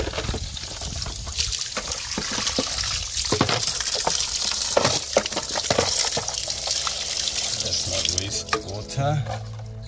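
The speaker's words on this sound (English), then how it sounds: "Water." Water runs and splashes near a Toyota Camry during a rebuild, with gushing, trickling bursts, sharp knocks and intermittent voices.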